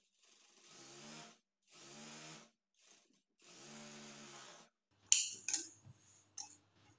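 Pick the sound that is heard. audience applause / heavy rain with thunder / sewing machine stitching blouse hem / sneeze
sewing machine stitching blouse hem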